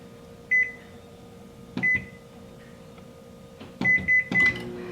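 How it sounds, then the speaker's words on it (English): A microwave oven melting semi-sweet chocolate morsels hums steadily, with several bright beeps from its keypad and the clunks of its door handling scattered between, heard close with no talking. "So into the microwave it goes"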